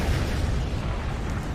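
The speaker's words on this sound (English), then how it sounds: "Yay, explosions." A loud, continuous roar of explosions in a Spider-Man video game, dense booming rumble with no pauses.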